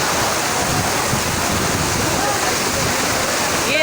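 Floodwater rushes in a steady, loud roar across Shahrah-e-Faisal, a main city road in Karachi flooded after heavy rain. The broad noise wash runs unbroken for the whole stretch.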